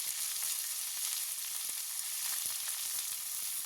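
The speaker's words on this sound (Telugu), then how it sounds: "ఇవన్నీ ఒకసారి బాగా ఫ్రై చేసుకున్నామండి" Mint, curry leaves and green chillies fry in a pan, giving a steady, bright crackling sizzle with dense rapid pops throughout, close and continuous, with no voices.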